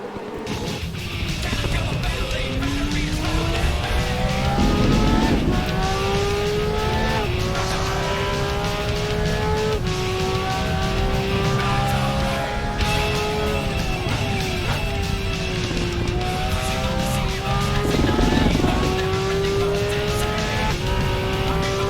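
Porsche GT3 race car in the RaceRoom racing sim at Imola, its engine screaming steadily through rising and falling gear sweeps, loud and continuous, with faint tire noise and no talk.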